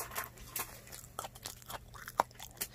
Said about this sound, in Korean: 아삭아삭 소리가 나.